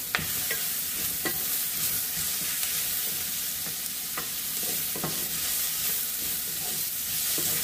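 Tomatoes frying in a pan for matar paneer, an even, close sizzle with repeated stirring clicks and scrapes of a spatula across the pan, no voices.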